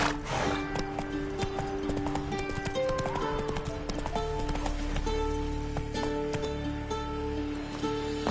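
Hooves of the horse Roach in The Witcher video game galloping, steady rapid clip-clop thudding up close beneath game music tones and ambient layers.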